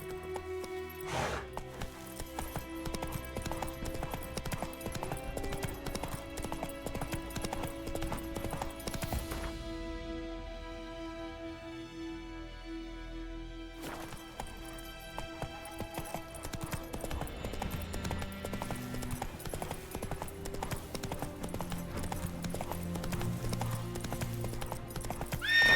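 Horse hooves clip-clop at a gallop in The Witcher 3 video game, a rapid rhythmic pounding with occasional neighs, set against game music and ambience, briefly thinning midway before resuming.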